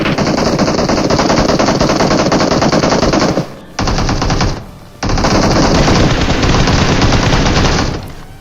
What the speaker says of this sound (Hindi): एक ग्रोजा वाला बंदा फायरिंग करता है